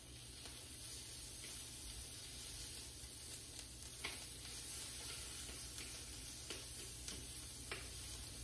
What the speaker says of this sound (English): Let each side of this asparagus blister.